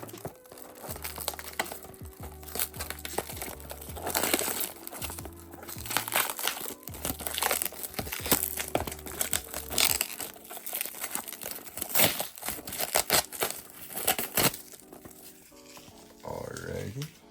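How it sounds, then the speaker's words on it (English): A boxed 1:400 scale Boeing 737-800 Copa Air model airplane package is unwrapped nearby, its packaging crinkling and crumpling in irregular bursts with brief tearing rustles throughout. "let's get this unwrapped"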